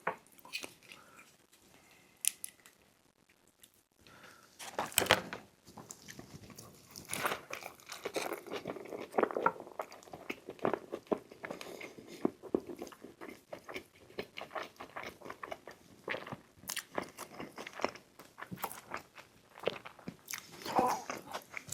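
Close, crisp bites and wet crunchy chewing of a Sonic Drive-In triple smash burger, repeated in an irregular rhythm with brief pauses and occasional wrapper crinkles.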